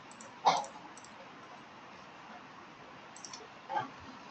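Two faint, sharp computer mouse clicks, about three seconds apart, stand out against quiet background hiss.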